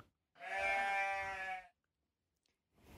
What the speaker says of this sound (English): Next, a ewe, which is a female sheep, but one with golden feet.